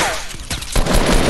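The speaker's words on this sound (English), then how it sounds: "Just getting shot" Fortnite gunfire crackles in a dense, loud burst of rapid shots, growing heavier toward the end of the short stretch with no talking.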